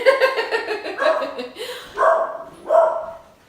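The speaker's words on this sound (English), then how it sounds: "So there's our dog. There's someone at the door." A house dog barks repeatedly at someone at the door, a run of quick loud barks followed by two separate, longer barks, close and dominant.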